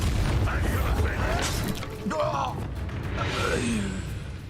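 A Bombarda blasting spell goes off in Hogwarts Legacy, a single booming burst with whooshing debris, followed by in-game voices and scattered effects.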